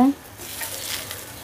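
Eggplant pieces fry in a little oil in a covered pan, giving a steady, soft sizzling hiss close by after a brief clatter at the start.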